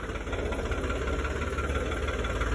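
A farm tractor's engine runs continuously up close, a loud, dense, rumbling drone with a faint knocking pulse and no pauses.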